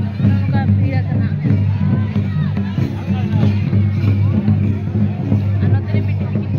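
A busy Sarhul festival market in Bokaro fills with dense crowd babble, with several nearby voices talking over a constant hubbub.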